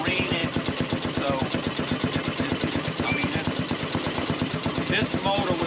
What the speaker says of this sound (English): this is a purpose-built marine engine.